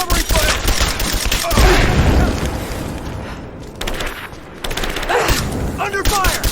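Rapid bursts of gunfire and booming shots from a firefight in Rise of the Tomb Raider, with dense automatic fire loud throughout and shouted voices breaking through between volleys.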